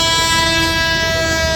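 A train passes through Purulia station, loud and close, with a sustained, steady multi-tone horn blaring over the rolling rumble of the wheels.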